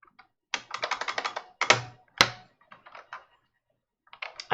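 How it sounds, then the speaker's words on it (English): Keys on an IBM Model M mechanical keyboard clack in quick bursts of typing, each stroke sharp and close, separated by short pauses and a few isolated heavier presses. "this is an IBM Model M keyboard"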